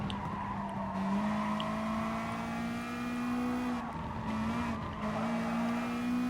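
Race car engine in Gran Turismo Sport on a wet track with dry tyres, a steady loud droning note dipping and rising as the throttle is feathered through corners, with faint tyre squeal underneath.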